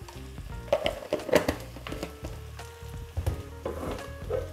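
Boiled eggs frying in a pan for a Bihari-style egg curry give a soft sizzle with irregular clatter and scraping as they are turned, close and fairly quiet, with no speech.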